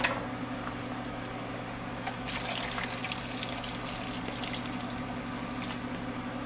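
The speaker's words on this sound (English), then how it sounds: "Put a little bit of water." Water from a tap or jug pours into a pot of beef stew with cabbage, a steady close splashing stream lasting several seconds with no voices.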